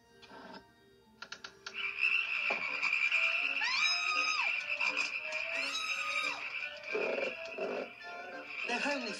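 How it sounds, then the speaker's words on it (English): Frogs croaking in a witch's marsh setting, a chorus of warbling, rising and falling calls that carry on continuously at moderate loudness, with a few sharp clicks at the start. "They're only frogs, Eilonwy."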